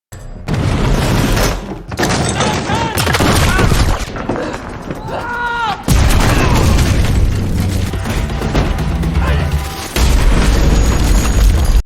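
Action film explosions as a box of bombs goes off, with repeated loud booms and bursts through a dense, chaotic scene of crashes and mechanical noise, with shouting and voices mixed in.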